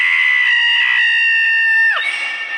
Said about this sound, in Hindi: क्या हुआ, तू चिल्लाया क्यों?